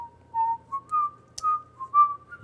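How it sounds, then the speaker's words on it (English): Someone whistles the simple, lilting tune of Row, Row, Row Your Boat in short rising and falling notes, clear and close, with brief pauses between phrases. "You're whistling row, row, row your boat."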